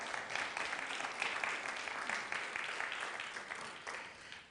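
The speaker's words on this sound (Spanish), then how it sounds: "Denle un aplauso al Señor porque eso es algo glorioso." Church congregation applauding during a sermon, a dense, even wash of many hands clapping, fairly faint and distant, with no voices over it.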